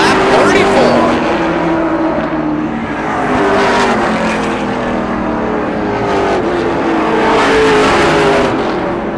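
Race cars at a short-track motorsports event roaring continuously around the circuit, engines loud and sustained with revving swells, under a commentator talking.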